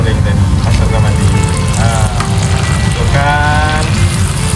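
Steady loud sizzling of fried fish being returned to a pan and stirred while cooking Negeri Sembilan–style pekasam ikan, a continuous crackling hiss close up, with faint tonal sounds rising above it now and then.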